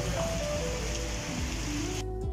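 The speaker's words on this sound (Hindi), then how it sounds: "तेज़ बारिश हो रही है" Heavy rain pours down in a constant, loud roar, with a low steady hum underneath.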